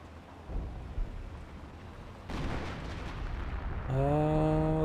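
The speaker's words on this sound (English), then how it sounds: "Right here, a 25-pounder barrage raining on in." Artillery barrage from 25-pounder guns in the World War II strategy game Company of Heroes, a steady rumbling wash of distant blasts and explosions building in intensity, ending with a bright harmonic game tone over the din.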